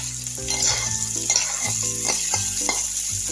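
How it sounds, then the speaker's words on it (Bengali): Chopped onion and carrot fry in a pan with a steady, close sizzle, broken by repeated scraping strokes of a spatula as the vegetables are stirred. "এটা একটু ভাজা ভাজা করে নিব"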